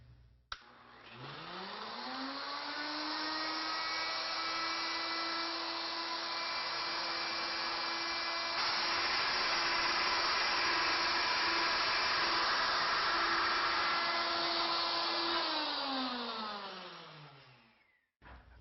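A lathe cutter makes a threading pass, a steady droning whine that starts, holds evenly for about fifteen seconds and then winds down, with no talking.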